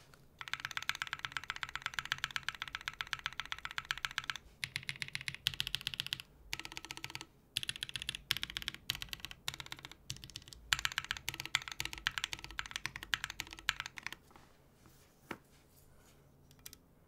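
Typing on a prototype mechanical keyboard, with dense, rapid clacking key presses in bursts, close and fairly quiet, broken by a few short pauses and trailing off near the end.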